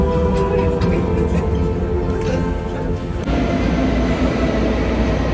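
A steady, loud rumble from inside a moving passenger train in Germany on the way to Berlin, with continuous wheel and carriage noise and faint higher squeals throughout.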